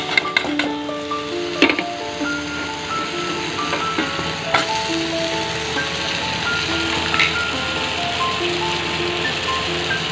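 Panch phoron and turmeric sizzling in oil, a continuous crackling hiss overlaid with a repeating electronic melody and occasional clatters, with no talk.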